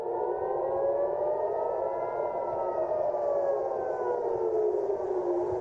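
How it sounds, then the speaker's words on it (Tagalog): A civil defense siren in Israel sounds a rising and falling wail warning of incoming rockets from Lebanon, loud and sustained with no talk over it. "Ipinatunog ang sirena sa Israel, senyales na may paparating na mga rocket mula sa Lebanon"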